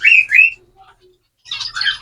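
Pet finches give a few quick, bright chirps and squawks at close range, two short calls followed by a pause and then a busier burst, with no voices.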